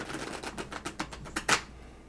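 Tarot cards are shuffled close by in a series of quick, crisp riffling clicks and flicks, ending in a louder final snap as the deck comes together.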